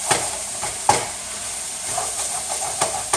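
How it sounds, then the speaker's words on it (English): A spoon scrapes and stirs gnocchi and vegetables in a sizzling pan, sharp clacks landing irregularly over a constant soft frying hiss. "And then we'll stir it."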